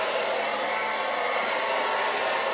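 A hair dryer runs on its cool setting while a paddle brush is pulled through the hair, giving a steady, close, loud whooshing airflow with no talking.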